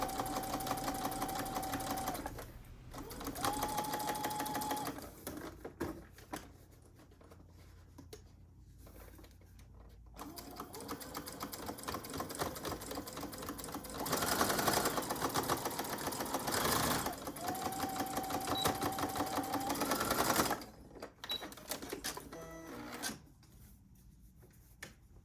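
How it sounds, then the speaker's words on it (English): A sewing machine stitches the curved top edge of a fabric face mask, running in several rapid, rattling bursts separated by brief pauses, close and clear. "we're going to sew the top edge, which is curved."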